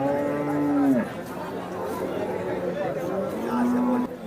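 A cow moos in long, low calls at a cattle market in Sangola, once near the start and again toward the end, over a background of crowd chatter.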